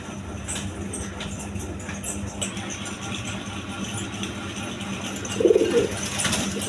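Low, soft pigeon coos repeat over a steady background hum, with a slightly louder burst of cooing near the end.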